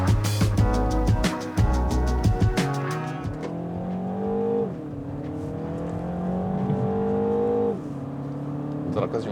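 A 2025 Mini Cooper S with the B48 engine accelerates through quick gear shifts. Revs climb in steps, each shift marked by a sharp drop in engine pitch, and the note is partly augmented through the speakers. The engine is heard up close, with brief talk early on.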